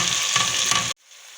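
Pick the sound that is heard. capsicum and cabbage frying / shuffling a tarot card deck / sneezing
capsicum and cabbage frying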